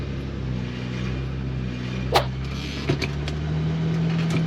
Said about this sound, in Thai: เดี๋ยวเราลองสตาร์ทให้ดูนะครับ สตาร์ทชิ้งเดียวติดเลยครับ